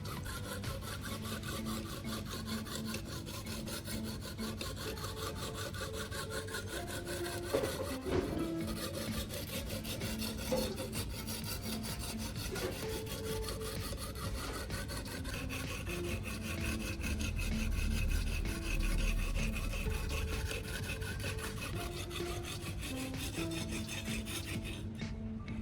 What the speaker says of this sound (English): I start moving the block back and forth along the blade.